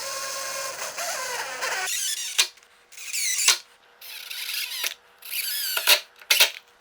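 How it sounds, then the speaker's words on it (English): A power driver fastens screws through retractable gate brackets into a post, giving several short whirring bursts separated by brief pauses, close and fairly loud. "Then we just need to fasten these to the post with the provided screws."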